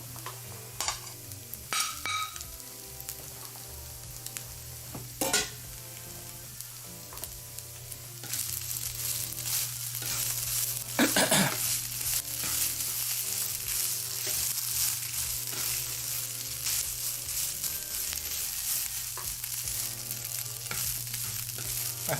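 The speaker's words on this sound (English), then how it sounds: "I hope you're hearing some of the lovely frying as ASMR." Onions and shiitake mushrooms sizzle and fry in a pan for homemade Japanese yakiniku BBQ, a steady close crackle broken by scraping stirs, growing louder and more constant midway through.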